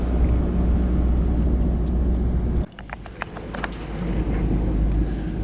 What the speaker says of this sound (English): we still have the engine on